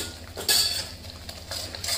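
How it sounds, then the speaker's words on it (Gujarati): A metal spoon scrapes and clinks against a pan while spices are stirred into chana dal curry, with repeated close scraping strokes over a low steady background hum. "અને સારી રીતે મિક્સ કરી દઈશું"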